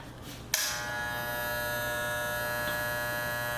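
A corded electric trimmer clicks on and settles into a steady buzzing hum, close and even, running alone without pause until the end.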